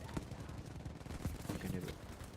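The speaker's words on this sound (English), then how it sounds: "Please excuse me while I shoot some Tieflung." Gunfire in the video game Battlefield sounds as a few sharp, quiet shots spaced irregularly across a faint, busy game mix, with no clear talking.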